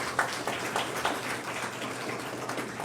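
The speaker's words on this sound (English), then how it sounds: "Let's give our children a round of applause" A conference audience at a Caribbean child research gathering gives the children a round of applause: continuous crowd clapping with a few sharper individual claps standing out, moderately loud throughout.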